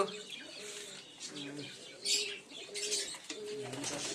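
Giribaz and Madrasi pigeons feeding in a loft coo in soft, repeated throaty phrases close by, with a few brief chirps and a wing flutter mixed in.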